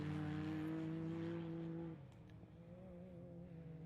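An Isuzu rally raid vehicle's engine drones loudly at a steady pitch, then the tone drops and shifts as it moves off into the distance. No one speaks.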